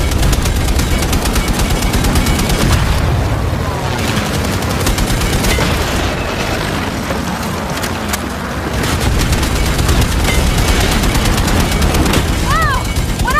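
Sustained machine gun fire aimed at an enemy plane in the Indiana Jones and the Great Circle video game, rapid continuous bursts loud and close through the whole stretch, with heavy booms mixed in.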